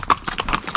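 A horse on a hill-town path in Dalhousie clip-clops in quick, close, loud hoof strikes, about five in under a second.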